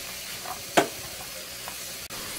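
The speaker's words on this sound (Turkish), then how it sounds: "Soğanla kıymayı birlikte karıştırarak kavuruyoruz." Minced meat and coarsely chopped onions are stir-fried together in hot oil over high heat, making a faint, even sizzle with one brief clack of stirring partway through.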